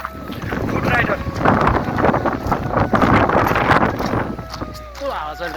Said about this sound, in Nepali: यस्तो हावा चलिरहेको छ नि यहाँ पुरै टाउकोमा हानिरहेको छ